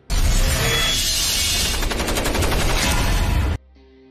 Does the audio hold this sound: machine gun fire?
yes